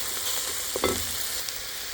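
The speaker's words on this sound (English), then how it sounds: "Now I'm going to add 2 tablespoons of butter." Two tablespoons of butter melt and sizzle with garlic in a pot, a soft steady hiss with a couple of faint utensil taps partway through.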